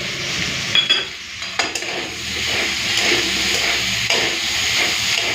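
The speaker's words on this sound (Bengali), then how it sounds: "আলুটাকে একটুখানি ভেজে নিলাম হালকা ভেজেছি" Potato pieces fry lightly in hot oil in a pan, a steady close sizzle and hiss with a few stirring knocks against the pan.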